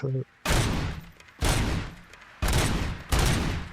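Automatic gunfire in the video game RoboCop: Rogue City, arriving as four loud, dense bursts of roughly a second each, separated by brief lulls.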